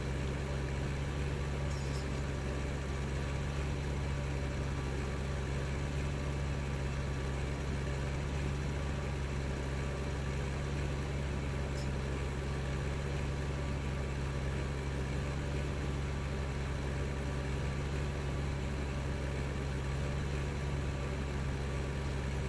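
A tractor engine in Farming Simulator 15 runs steadily while pulling mowers up and down hills, a constant low droning hum with a smooth, unbroken texture and no talk.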